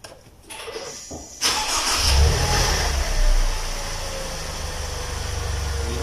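An automatic-transmission car's engine runs steadily, with a louder surge as it is shifted into drive and eased forward, a continuous mid-pitched hum close by with no talking.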